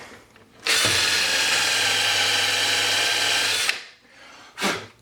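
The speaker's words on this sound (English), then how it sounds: "this is called barrel trimming, where we square the barrel to the blank" A power-driven barrel trimming tool squares a brass pen barrel to the wood blank with a loud, steady whirring grind that lasts about three seconds and then stops. A brief second burst follows.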